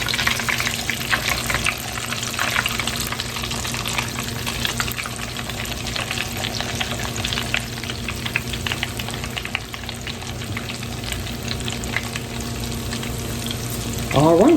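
Chicken tenders crackle and sizzle steadily in hot oil, a dense, continuous frying hiss at close range that runs unbroken, with a brief clatter near the end.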